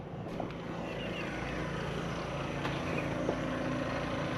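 A steady, broad rumble of boat engines passes in the distance on a river in rural Laos, with wind noise over it and a few faint clicks.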